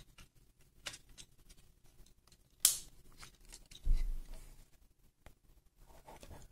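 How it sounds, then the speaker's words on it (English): Plastic panels of a Jurassic Cops 3 Firesaurus transforming robot toy being folded, a few faint clicks and scrapes with one sharper snap and a soft thud, close and sparse. "And now you can fold these panels."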